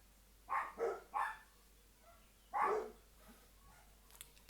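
Several dogs bark indoors, three quick barks followed by a fourth after a pause, moderately near and otherwise alone against a quiet background.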